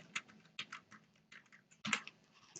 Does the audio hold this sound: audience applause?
no